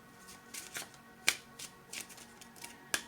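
Tarot cards are shuffled by hand in quick irregular riffles and soft slaps, with several sharp snaps standing out, close and fairly quiet, no talking.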